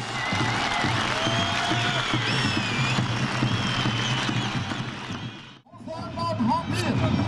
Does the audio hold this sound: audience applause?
yes